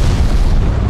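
A cartoon explosion sound effect, a loud, deep rumbling boom that fills the whole moment with a heavy low roar and no voices.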